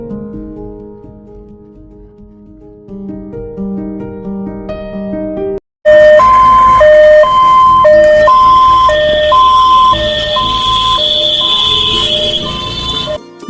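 An ambulance siren for the Maa Ambulance service in Durgapur follows a short musical intro, a loud two-tone wail alternating in a steady rhythm to the end.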